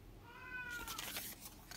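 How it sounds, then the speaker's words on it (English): A house cat lets out a single drawn-out meow, rising then falling in pitch, fairly close over faint room noise, followed by soft rustling. "And my cat's just gonna keep meowing"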